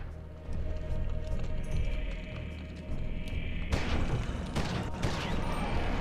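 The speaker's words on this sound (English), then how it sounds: "And then we're going to fucking assault rifle this guy." Assault rifle fire rings out in the horror video game Eternal Darkness as a dense, continuous crackle under a rumbling game soundscape, with sharper bursts of shots toward the end.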